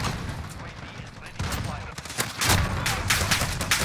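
Dense, loud bursts of gunfire from the video game Valorant crackle almost continuously, with heavy low thumps and sharp overlapping reports filling the whole stretch.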